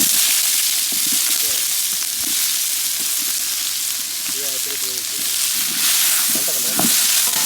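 Onions fry in ghee for a clam biryani with a loud, dense, constant sizzle close up, while occasional stirring clinks and faint bits of voice sit beneath it.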